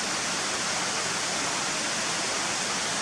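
Waterfall at Malham Scar, a steady, dense roar of falling water that holds constant and fairly close throughout, with no voices.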